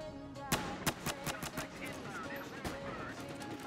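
Revolver gunfire in the video game Battlefield Hardline: a handful of sharp, loud shots at irregular intervals crack over a busy battle background with distant gunfire, while someone talks.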